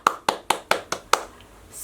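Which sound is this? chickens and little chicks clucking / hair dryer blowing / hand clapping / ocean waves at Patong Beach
hand clapping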